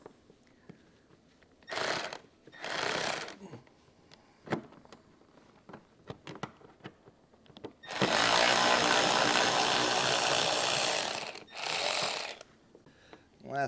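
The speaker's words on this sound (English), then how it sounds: "I'm using a electric ratchet here. It makes it easy" An electric ratchet removes bolts while a hidden hitch receiver is fitted to a 2023 Audi, sounding in several loud whirring bursts, short ones early and a long buzzing run near the end, with clanks and handling noises between.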